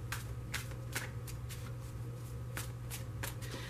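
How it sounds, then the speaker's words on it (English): Crisp riffling of a tarot card deck being shuffled, a quick run of sharp papery bursts over a steady low hum, close and fairly quiet. "I'm only going to shuffle it for a moment"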